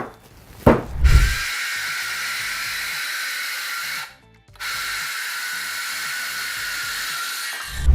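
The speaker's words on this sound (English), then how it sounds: "that piece of 3/4 inch plywood was a little heavy for my cordless saw, so that's why it kept stopping on me" A cordless circular saw cutting 3/4 inch plywood, revving up into a loud, steady rasping cut that stops abruptly partway through, then starts again and carries on to the end.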